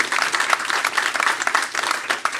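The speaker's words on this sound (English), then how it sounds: "A round of applause for AFSCME, our public employees union that has worked so hard for so long." A round of applause from an audience at a Wisconsin political forum, honoring a public employees union: lively, continuous clapping with slight swells in rhythm, filling the short moment.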